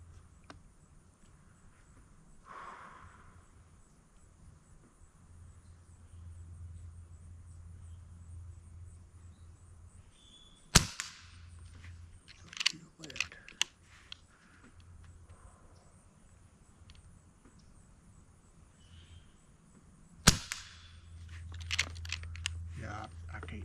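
Avenge X air rifle shots at targets outdoors, a few sharp separated cracks, two louder and a small cluster in between, over faint insect and ambient hum with quiet talk at times.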